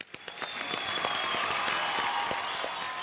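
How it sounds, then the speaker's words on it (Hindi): An audience claps during a Hindi stage event, building quickly from a few scattered claps into a steady, dense round of applause that holds to the end. "एचआर के लिए तालियां।"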